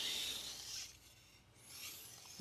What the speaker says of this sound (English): So we'll do some edge leading strokage.